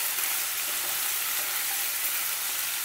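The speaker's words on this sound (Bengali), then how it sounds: "দেখুন এই সবজিগুলো একটু ভাজা হবে।" Mixed vegetables for navratan korma fry in a pan with a steady, even sizzle, close and moderately loud, with no voices.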